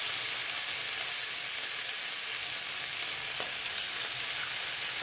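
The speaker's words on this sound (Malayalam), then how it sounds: "ഞാനപ്പോൾ അതിനകത്ത് ആ മീൻ കഷ്ണങ്ങൾ വന്നിട്ട് ഫ്രൈ ചെയ്ത് എടുക്കാം" Fish pieces for Kerala fish masala fry in hot coconut oil, producing a continuous, even sizzle at moderate loudness close by with an occasional faint spatter. No one talks.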